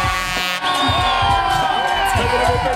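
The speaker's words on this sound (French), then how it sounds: "je vous demande d'applaudir l'ancien champion du monde" A crowd cheers and whoops for a former ski world champion at his final international race in Megève, loud and sustained, with shouts rising above the roar and a brief dip near the start.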